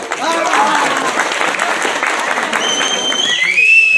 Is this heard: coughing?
no